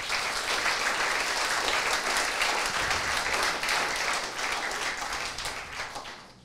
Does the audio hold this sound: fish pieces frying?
no